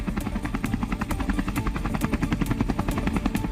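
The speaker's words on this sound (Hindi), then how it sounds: "सबसे पहले 4 Mi-17 IV हेलीकॉप्टर ने ध्वज फॉर्मेशन के साथ विक फॉर्मेशन में उड़ान भरी।" Four Mi-17 V5 helicopters flying in vee formation at a Republic Day flypast, a loud steady rotor thump with fast regular blade slaps over a continuous engine whine, no talk.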